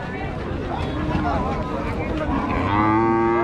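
A bull at a busy cattle market in Rajshahi gives a drawn-out, close moo near the end, rising over continuous crowd chatter and bargaining voices.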